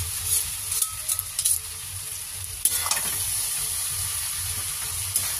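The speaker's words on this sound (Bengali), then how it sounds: "রাইসটা দিয়ে এবার হালকা হালকা করে নাড়বো" Cooked rice being stirred gently into fried paneer and mixed vegetables in a pan for mixed fried rice, with a steady close sizzle and a few scraping stir strokes, no talking.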